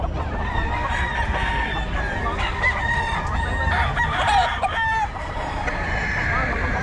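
A Golden Boy Sweater gamefowl rooster crows repeatedly at a crowded cockfighting-trade venue, its calls cutting through steady crowd murmur and background noise.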